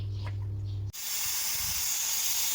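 A pressure cooker boiling a clear cabbage and peanut soup with meat and vegetables bursts into a loud, steady hiss of steam after a short low hum, with no talking.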